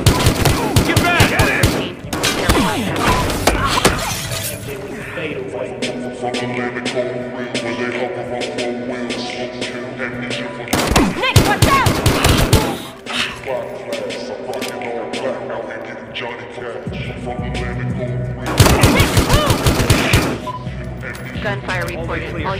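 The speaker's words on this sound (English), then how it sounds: "Gunfire reported. All units proceed to location." Bursts of gunfire from the Battlefield Hardline video game on PS4, with repeated rapid volleys separated by quieter stretches of game sound and in-game voices talking.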